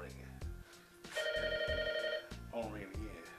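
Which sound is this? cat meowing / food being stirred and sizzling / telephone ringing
telephone ringing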